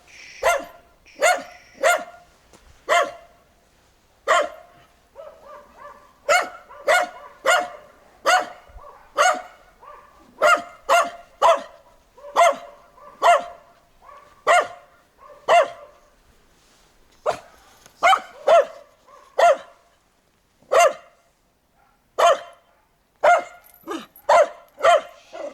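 A white dog barks loudly and close, in quick bursts of two to four sharp barks separated by short pauses, repeating throughout with no speech.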